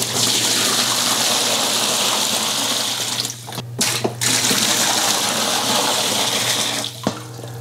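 Water pours steadily and loudly into a portable bathtub, a dense continuous rush that briefly breaks off twice before resuming, with no talking.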